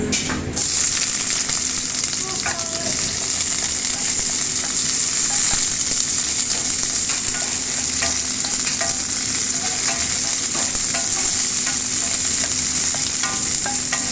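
Onion sizzles steadily in hot oil in a pan while cooking pinakbet, a loud, continuous close-up frying hiss with small crackles throughout and no talking.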